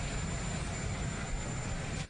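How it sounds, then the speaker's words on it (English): A steady, loud, wideband engine roar from a helicopter as a former president departs at an inauguration, then cutting off abruptly at the end. "the new president walked the former president to a waiting helicopter where Mr. Bush departed"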